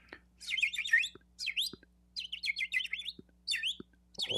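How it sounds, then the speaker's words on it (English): Several birds chirp and tweet in quick, bright bursts of song, fairly close and clear, with short pauses between phrases and a faint low hum underneath. "So Suleiman, he speaks to the birds."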